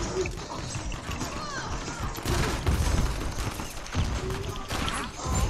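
Gunshots ring out in a busy online match of Uncharted 4, with several sharp bursts spread through the clip. They are mixed with other game noise and a voice talking.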